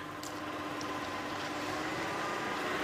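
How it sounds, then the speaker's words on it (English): A safari vehicle's engine idles steadily on a sunrise game drive, a low, continuous hum with a faint tonal whine holding level throughout, close and unbroken, with no voices. "just letting the engine run a little bit"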